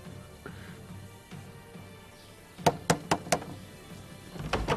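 Sharp knocks on a door, a quick cluster of four loud raps followed by another burst, set against a quiet, low background in a period drama scene, with no talking.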